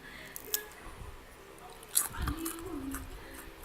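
Crunchy Jollibee fried chicken bitten and chewed close up, with quiet, wet crunching and squishing bites spaced irregularly against a soft background.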